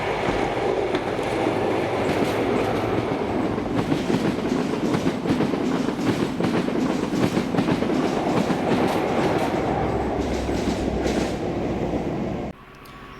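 A Class 43 HST passenger train on the Edinburgh to Inverness service passes close at Stanley, a loud continuous rumble with rhythmic wheel clatter lasting most of the pass before cutting off sharply near the end.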